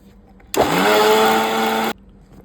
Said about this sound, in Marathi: पुन्हा मिक्सर लावून घेते.